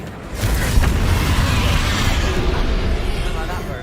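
The Incendio fire spell is cast in Hogwarts Legacy, a loud, dense roar of flame that bursts in and rumbles on steadily for several seconds.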